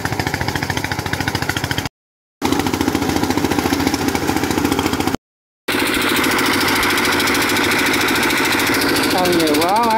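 A rice threshing machine engine runs steadily with a loud, fast rhythmic chugging, continuous apart from two brief dropouts, with people talking over it.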